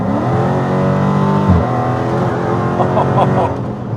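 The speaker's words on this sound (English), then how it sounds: "So let's feel the engine." A Dodge Challenger SRT muscle car engine rumbles loud and close, revving up and down with a throaty growl; a voice may murmur faintly beneath it.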